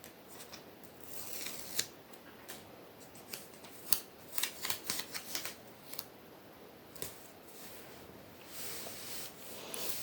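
Crisp peeling and crackling of a small rainbow paper sticker being pulled off its backing and pressed down, quiet close-up rustles and sharp snaps in irregular bursts, no talking.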